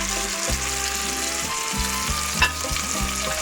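Mustard paste and tomato fry in a pan with a steady close sizzle and hiss throughout. Background music plays over it, and a brief sharp clink sounds near the end.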